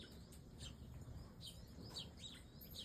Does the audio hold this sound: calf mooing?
no